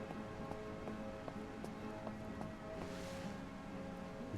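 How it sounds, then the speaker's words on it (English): Rain falls steadily in the video game SurrounDead 2, a dense hiss with scattered sharper drops and light ticks, soft and even throughout. "Oh, it's raining."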